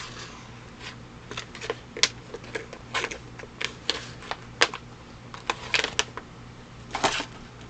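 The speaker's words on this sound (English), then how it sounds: "Some people really like matte cards, but I think they're the hardest to shuffle" Matte-finish tarot cards being shuffled at close range, a steady run of crisp riffling and flicking bursts with no talking.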